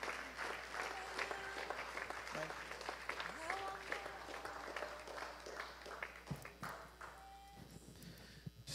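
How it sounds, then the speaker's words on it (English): A church congregation gives a hand clap of praise during a Wednesday worship service, a broad ongoing clatter of many hands with scattered cheers and a voice speaking over it. "Give him a hand clap of praise in this place tonight"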